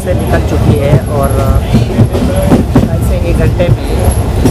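A passenger train runs through open fields toward Dera Baba Nanak near the Indo-Pak border, with a loud steady rumble and rhythmic wheel clatter throughout and some voices in the background.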